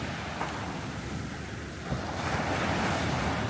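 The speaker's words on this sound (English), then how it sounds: "Same ocean" Ocean surf rolls steadily along the Cape Cod shore, a continuous wash of breaking waves with wind buffeting the microphone, swelling louder toward the end.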